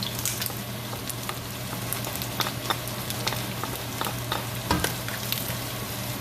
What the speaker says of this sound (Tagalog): antayin natin mag-golden brown din yung garlic